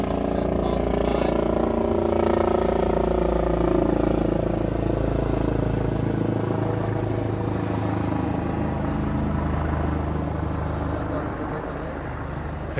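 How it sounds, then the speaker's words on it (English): A loud, steady rotor drone rumbles throughout, a helicopter passing overhead that slowly eases off toward the end. "I'll just let this helicopter pass by."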